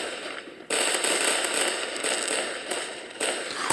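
Fireworks go off in a dense, continuous crackling burst that starts abruptly and stays loud and close, with sharper pops surging twice more near the end.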